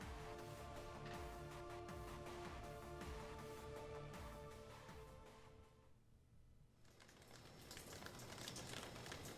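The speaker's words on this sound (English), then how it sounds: "It's actually beginning to rain now." Rain beginning to fall during an approaching storm, a steady broadband patter that dips briefly before building again, heard alone without talk.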